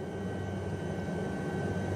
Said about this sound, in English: Taking a helicopter flight from Lukla to Everest Base Camp is quite a short hop.